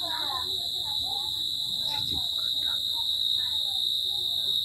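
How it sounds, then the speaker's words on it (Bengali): Crickets trill at night in a rural setting, a steady, piercing high chirp that runs continuously with faint voices and other night sounds underneath. "ঝিঝি পোকার ডাক"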